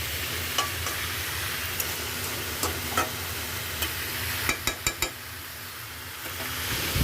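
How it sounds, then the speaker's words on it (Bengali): Vegetables being stir-fried in a spiced masala, with a steady low sizzle throughout and several sharp spatula clacks against the pan, a quick cluster of them near the end. "এখন এই সবজিগুলো ভালো করে একদম কষিয়ে নেব"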